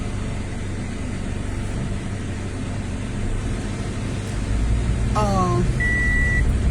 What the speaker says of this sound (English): they say it's going to start beeping because I don't be putting my seatbelt on